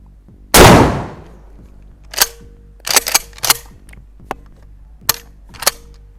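A Remington 870 pump-action shotgun fires one loud, close blast at a shooting range. Several sharp mechanical clacks follow at intervals, with no talk.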